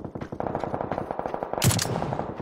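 Rapid automatic gunfire bursts from an online shooter video game, loud and sustained, with a sharper crack near the end.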